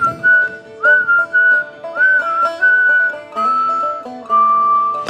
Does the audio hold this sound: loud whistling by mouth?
yes